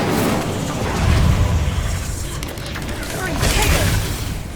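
Bombarda and Incendio spell explosions in Hogwarts Legacy make a loud, rumbling wash of blasts and crackling bursts that swell and fade, with a voice calling out over them.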